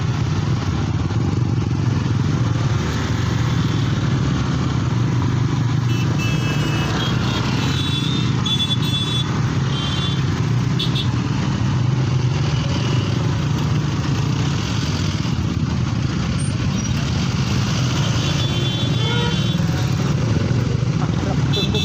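Traffic jam in Raigad with motorcycles and other vehicles idling close by, a loud continuous engine rumble filling the whole stretch while people talk over it.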